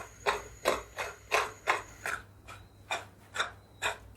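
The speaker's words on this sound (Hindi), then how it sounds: "ये आप इनकी आवाज सुन सकते हैं, कितने जबरदस्त ये क्रिस्पी तैयार हुए हैं।" Freshly fried crispy khasta namkeen snacks rustle and crunch in a series of short, dry bursts, roughly ten of them in a steady rhythm, close by with no talking.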